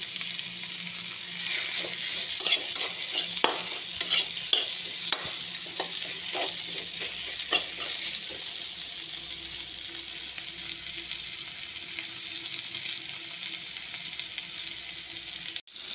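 Pigeon leg pieces fry in a pan with a steady, close sizzle, and a spatula clacks and scrapes several times early on before the frying carries on alone.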